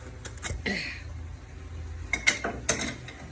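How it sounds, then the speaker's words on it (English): Someone pries open the top of a shipping box holding a barbell. There are scattered clicks, scrapes and knocks at close range, with a few sharper cracks near the end and no talking. "I'm gonna have to finish prying around the top up here and hopefully I should be able to get that out"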